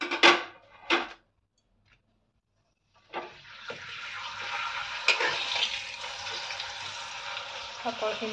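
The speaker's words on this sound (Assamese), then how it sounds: "এতিয়া আকৌ পাপৰ ভাজোঁ মই" Papad fries in hot oil in a pan. A couple of short bursts and a pause give way to a steady, close sizzling hiss that runs to the end with small pops.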